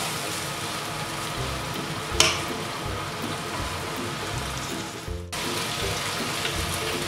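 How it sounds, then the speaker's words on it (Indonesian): Water poured into a pan while cooking tempeh and green beans, a steady close splashing stream running for several seconds with a sharp clink partway through and a brief dip near the end. "Air sedikit."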